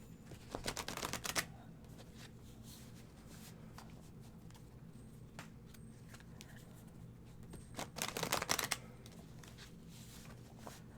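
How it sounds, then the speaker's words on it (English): Tarot cards being shuffled by hand: two short bursts of dense riffling and flicking, one near the start and another later, separated by quiet with faint low background hum. "Go ahead and shuffle."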